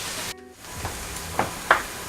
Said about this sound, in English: And they sizzle immediately because it's just the right temperature.